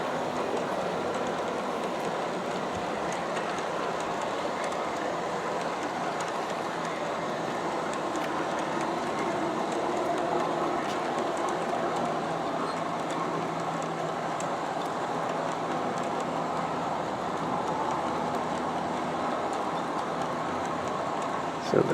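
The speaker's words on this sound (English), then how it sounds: "So the train is snaking up to the upper level of my backyard now." A G scale BNSF model train runs through a backyard, giving a steady, continuous rolling rumble and clatter of wheels on track that holds at an even level from start to finish.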